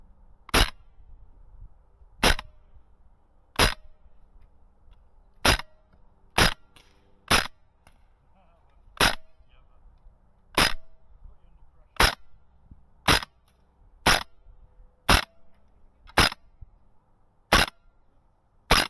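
APFG MPX gas blowback airsoft SMG firing BBs at distant targets outdoors, sharp single shots spaced roughly one to one and a half seconds apart, close and loud against a quiet background.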